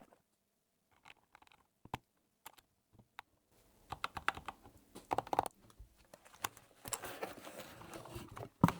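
Clicky keystrokes come from a thocky mechanical keyboard fitted with cat-shaped keycaps. They start as sparse, scattered taps and then build into steady, fast typing at close range, with no voices.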